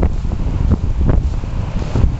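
Strong gusts on Wasaga Beach buffet the microphone in loud, rumbling bursts amid snow and minus 5 cold, with the wash of surf faintly underneath.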